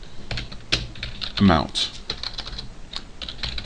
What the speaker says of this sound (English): so that's why I keep typing year